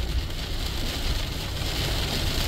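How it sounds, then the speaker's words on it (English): Steady rain falls outside an off-grid cabin, a continuous broadband hiss of drops on surfaces with no talk, holding even and fairly close throughout. "Little bit of rain."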